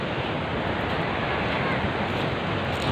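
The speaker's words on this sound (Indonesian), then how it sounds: "Besar banget ini ombaknya ini" Big ocean waves rolling in at a clean beach at high tide, a loud continuous roar of surf and wind buffeting the microphone with no break.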